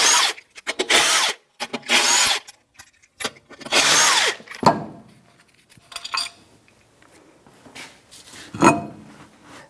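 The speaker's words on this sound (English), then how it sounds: "Now with a 21mm socket, you're going to remove the tire." A power tool with a 21mm socket spins wheel lug nuts off a 2008-2013 Nissan Rogue, sounding as several loud, close bursts that stop and start, followed by quieter clinks and handling noises.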